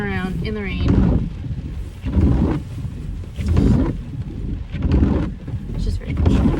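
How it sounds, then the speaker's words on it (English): Rain falls outdoors while someone walks through it, heavy rumbling wind buffets the microphone in repeated gusts, and a voice speaks briefly at the start. "I'm walking around in the rain"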